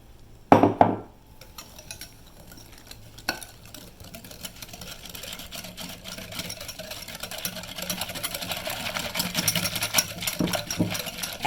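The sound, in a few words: whisking egg into cake batter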